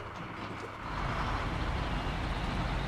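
A heavy truck grinds along in the off-road driving game SnowRunner. Its engine swells to a loud, steady, dense rumble after about a second and holds there with no talking.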